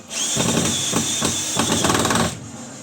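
A power drill with a clutch limiter drives screws into larch offcuts for a barn door: a loud, close motor whine runs for about two seconds in several pulsing bursts, then cuts off.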